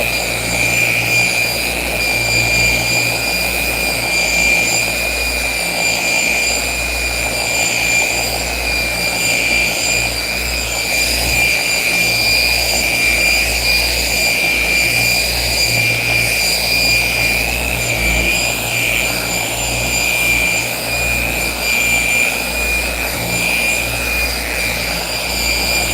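A polishing machine buffing the hood of a square body truck, a loud, steady, continuous whine and hum with tonal drone that holds evenly throughout, with no talk.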